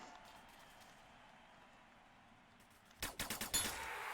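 Gunfire in the Snapshot VR shooter game during a bot match: a quiet stretch gives way to a quick burst of four or five sharp, closely spaced shots near the end, with no voices.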